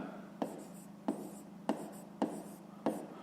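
A pen writes by hand on paper while a fifth-grade maths exercise is worked, making soft scratchy strokes in about five short regular bursts, close and quiet, with no voices.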